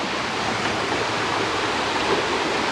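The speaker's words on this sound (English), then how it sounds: "Creek rushing right down in there." Cedar Creek rushes past a cabin at an RV park in Montrose, Colorado, a dense, steady roar of flowing water, close and constant with no talking.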